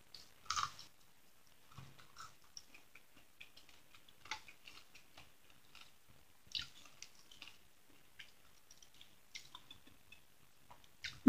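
Someone chews frozen-papaya Thai papaya salad with thawed shredded mango strips, carrot and corn, making sparse, faint, close crunches and wet clicks spaced across a quiet background, with one louder bite near the start.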